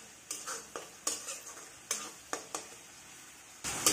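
Masala for dum aloo being fried and stirred in a pan, heard as a quiet, irregular series of short clicks and scrapes from the utensil over a faint background sizzle, with no talking.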